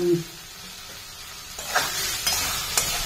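Pre-fried cauliflower pieces drop into a hot pan and sizzle steadily, with a few scraping stirs and light knocks as they are moved around.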